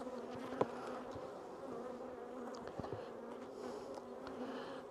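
Honeybees buzz steadily at an open hive over frames of brood, a dense, continuous close-up hum with no talking, broken only by a couple of brief clicks.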